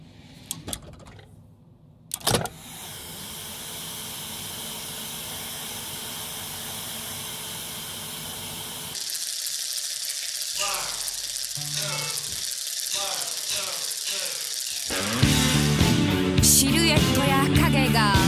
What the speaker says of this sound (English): the album's co-producer, Tony Visconti, rewinding and pressing play on his Lyric 24-track tape deck